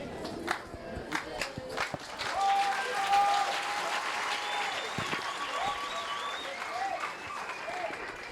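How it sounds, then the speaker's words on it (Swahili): Applause in a church congregation, a dense wash of clapping that swells after a couple of seconds and holds steady, with singing or voices mixed in underneath. "Kama makofi ni ya Yesu"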